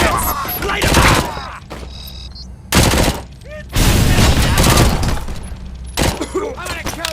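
Automatic gunfire from RoboCop: Rogue City rips out in several loud, close volleys separated by brief lulls with mechanical clatter.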